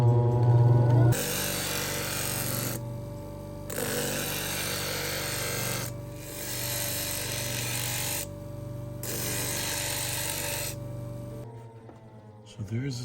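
Montana agate being ground into a beveled edge on a 180-grit wheel, a steady loud whirring grind running in long bursts separated by brief lulls, with a humming motor underneath and a louder clatter near the end.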